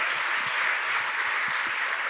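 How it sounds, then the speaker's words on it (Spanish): A church congregation applauds together, steady dense clapping filling the space throughout. "Y le das un aplauso a Jesús por ese cuidado que tiene de nosotros."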